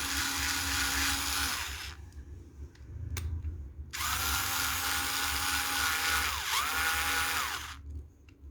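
A rechargeable cordless drill whirs in two long high-pitched runs separated by a short pause, as it switches between forward and reverse. The motor is close and loud and ends in a brief winding down.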